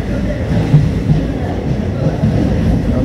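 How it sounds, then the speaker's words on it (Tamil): Tiruchchirappalli Express train rolling into a station, a steady loud low rumble of wheels and carriage noise with faint clanks throughout, no speech over it. "ஸோ மாலையோர் ஸ்டேஷனுக்குள்ளே என்டர் ஆகிறோம்."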